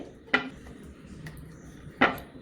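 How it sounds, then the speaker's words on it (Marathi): Knife cutting soaked figs on a board for dry-fruit modak, heard as two distinct, fairly close taps against the board about a second and a half apart, with a faint tap between them. "तर आता आपण हे भिजलेले अंजीर असे कापून घ्यायचे"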